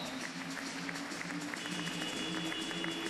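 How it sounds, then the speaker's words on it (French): Spectators at a French professional basketball game applaud in a faint, distant wash of clapping that holds steady under the arena's ambient hum. "On peut les applaudir très très fort."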